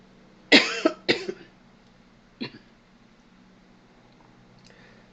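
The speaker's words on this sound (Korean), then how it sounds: "기침하면 안 되는데." Two sharp coughs in quick succession, then a smaller cough after a pause, over a faint steady hum.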